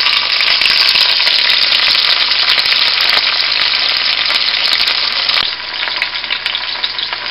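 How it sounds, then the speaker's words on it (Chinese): Scallion, ginger and garlic sizzling loudly in hot oil in a wok, a dense steady fry heard up close with no talk, easing slightly toward the end. "放的葱姜蒜把它煸香。"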